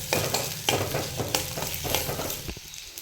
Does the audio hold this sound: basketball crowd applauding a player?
no